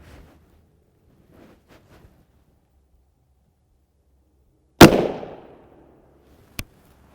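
Single loud, sharp gunshot from a CZ Scorpion Evo 3 SBR 9mm with a 7.72-inch barrel, fired outdoors with a short decaying tail, followed by a fainter click and a few soft handling noises beforehand.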